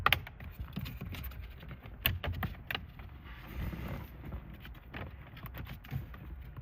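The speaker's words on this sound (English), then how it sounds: "install the radio unit now into the dash" A car stereo radio unit is pushed into the dashboard of a 2009 car, producing quiet plastic clicks, knocks and rustling scrapes in irregular bursts, close by, with no talking.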